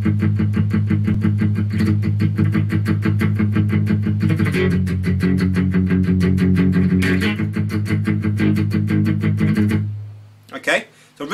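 Distorted electric guitar plays the verse of a song, with steady palm-muted power chords at a loud, even level for about ten seconds, then stopping abruptly before a few brief sounds.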